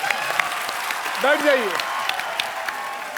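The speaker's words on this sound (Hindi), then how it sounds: "तालियां" Audience applause at a televised Indian comedy show, a sustained clatter of clapping with someone speaking briefly over it near the middle.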